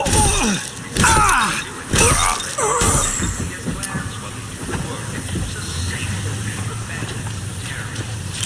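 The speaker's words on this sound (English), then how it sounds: "Well, there's the tram." Tram gliding along rails in the BioShock Infinite Burial at Sea game, a steady mechanical rumble with loud bursts early on and voices and game sounds layered over it.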